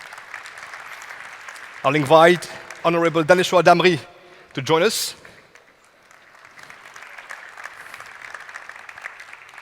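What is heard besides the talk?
audience applause for panelists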